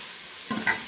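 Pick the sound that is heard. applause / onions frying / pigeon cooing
onions frying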